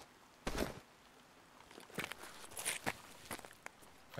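Footsteps in the video game DayZ land in short uneven bursts, several close, crisp steps over a faint steady background, with no speech.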